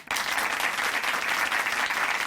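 A church congregation at Chuncheon Hanmaeum Church breaks into loud, sustained applause for a testimony speaker, a dense, even wash of many clapping hands from start to finish.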